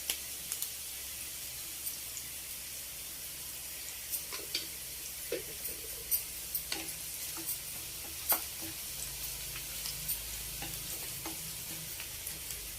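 Sliced onions with turmeric frying in a pan for a tamarind-leaf and small-fish curry, a steady soft sizzle with occasional stirring clicks and scrapes, close and moderately quiet, no talking.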